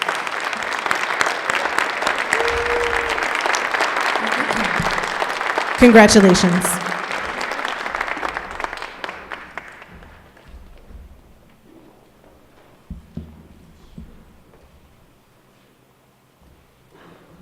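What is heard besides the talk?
graduation audience applauding award recipients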